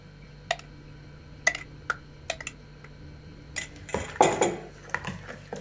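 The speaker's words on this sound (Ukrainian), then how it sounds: "перемішую." A spoon clinks against the side of a bowl a few times, then scrapes and swirls as kefir and sour cream batter is stirred, close and fairly quiet.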